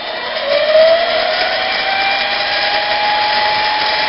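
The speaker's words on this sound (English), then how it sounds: "I'm just going to turn the machine back on, make another face cut" Harbor Freight 7x10 mini metal lathe running at about 600 RPM while taking a face cut on metal: a steady motor whine with a bright, sustained tonal ring and slight rise early on, close and without talk.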